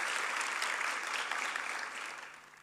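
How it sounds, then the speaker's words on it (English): Graduation ceremony audience applauding the graduates' parents, a full round of clapping from many people that gradually fades toward the end. "you better clap for your parents"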